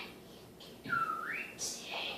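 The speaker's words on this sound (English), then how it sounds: "Hey, you whistle." A child whistles once, a short gliding tone that rises and falls, heard close in a quiet room.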